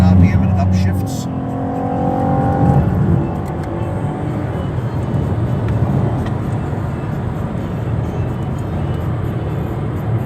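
2019 Chevrolet Camaro cabriolet V6 engine revving hard to about 7,000 RPM then upshifting, loud and close with a rising pitch that breaks at the shift, followed by a steady drone over road and wind noise.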